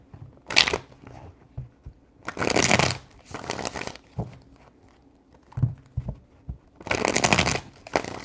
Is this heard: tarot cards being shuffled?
yes